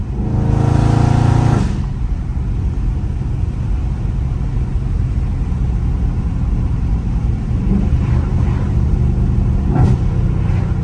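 A Dodge Scat Pack V8 in trap mode while driving, its exhaust roaring loud and close with a hard rev burst at the start, then a steady deep rumble with small throttle swells near the end.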